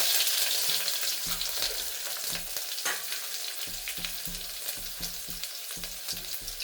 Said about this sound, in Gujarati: પછી આ મીઠો લીમડો અને ડુંગળી લીધી છે, એ વઘારમાં નાખી દેવાની છે.